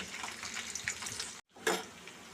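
Onions and green chillies sizzle in hot oil over a mustard, cumin, urad and chana dal tempering, a steady broadband hiss with a brief dropout and then a louder burst of crackling.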